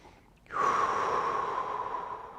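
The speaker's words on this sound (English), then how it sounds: "Really breathing into this." One slow, deep exhale during a back stretch, a breathy rush of air that begins suddenly and trails off gradually, heard close with no speech.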